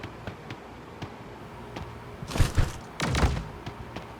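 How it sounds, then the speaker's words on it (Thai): Several bursts of gunfire in the video game Sausage Man, in quick clusters, loud and close, following softer scattered thuds and footsteps. "โอเคได้ยินละ อยู่ข้างหน้า เสียงปืน"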